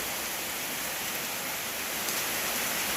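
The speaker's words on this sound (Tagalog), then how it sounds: "It's raining again, so we had to stop work." Steady rain falls on a house construction site in the Philippines, a dense, even hiss that stays constant and close throughout with no voices.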